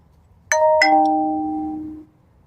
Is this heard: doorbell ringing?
yes